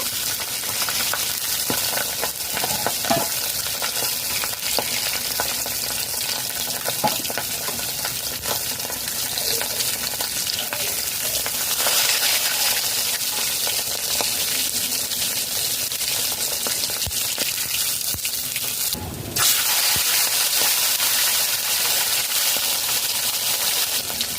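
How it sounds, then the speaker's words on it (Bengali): Bhetki fish bones fry in hot oil, giving a dense, loud, steady sizzle with occasional crackles and a brief burst of harsher hissing near the end. "কাঁটা ভাজা হয়ে গেছে তুলে নেব এইভাবে বাকি কাঁটা ভেজে নেব"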